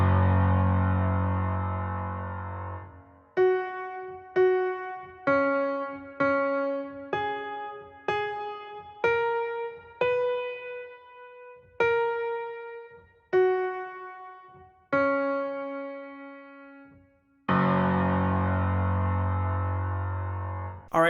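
Piano plays the right-hand intro of a worship song slowly, a sequence of single clear notes struck one at a time with ringing decay, framed by fuller sustained chords at the start and end.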